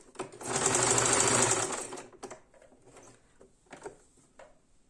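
A sewing machine stitches quilt patchwork in one loud, close, steady burst of rapid whirring lasting about a second and a half, followed by quieter handling clicks and rustles.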